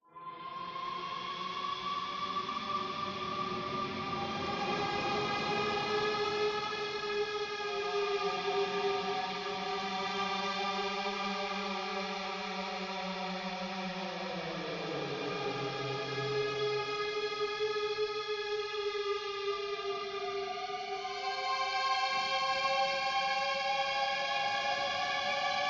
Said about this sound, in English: there's also another sound effect that will play in the event as well, and this might be when the Leviathan starts moving